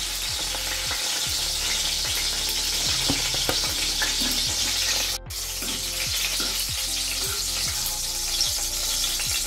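Cabbage frying in oil for a Bengali vegetarian dish, a loud continuous sizzle with regular scraping strokes of a spatula stirring, and a brief break midway.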